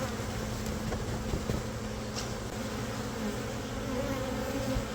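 Honey bees swarm inside a see-through observation hive, a dense, steady buzzing hum that stays close and even throughout with no voices.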